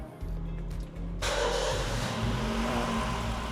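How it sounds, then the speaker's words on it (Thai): A 2009 Honda Jazz GE 1.5 SV engine catches and starts, jumping to a louder, steady mid-range running drone after a quieter cranking stretch. "เดี๋ยวให้ดูตั้งแต่เริ่มสตาร์ทเครื่องเลยแล้วเดี๋ยวจะให้ฟังทั้งเสียงเครื่องเสียงท่อด้วยว่าเป็นไง"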